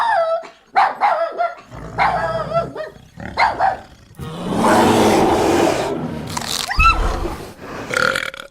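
Several dogs bark, snarl and growl in a loud, chaotic burst of overlapping noise after hounds are released, the commotion rising and falling with no talking.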